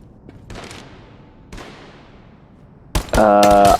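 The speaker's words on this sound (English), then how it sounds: "just playing around with your guns inside the little like training firing room with the dummies" Gunfire in a video game's training firing room with dummies: two isolated shots with decaying tails, then a loud sustained burst at the end, all without speech.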